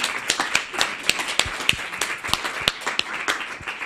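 A small audience at a live scientific session on immune-mediated disorders gives a short round of applause after case presentations, sparse individual claps rather than a dense roar, fairly close and moderately loud.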